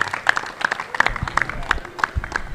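At a high school basketball trophy presentation in Stoughton, a crowd claps and cheers for the Edgewood team, with scattered sharp claps and a murmuring voice underneath, close and moderately loud.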